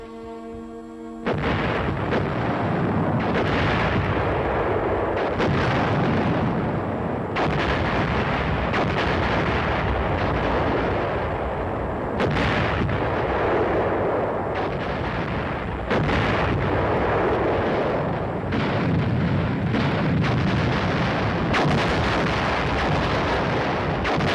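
Heavy Cold War era U.S. artillery guns fire in a continuous barrage, loud booming blasts overlapping and rolling one into the next with deep rumbling reverberation throughout.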